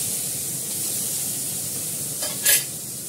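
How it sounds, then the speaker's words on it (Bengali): Onions tipped into a little hot oil in a pan, sizzling and frying steadily up close, with a brief sharp crackle near the end and no talk. "পেঁয়াজটা দিয়ে দিলাম"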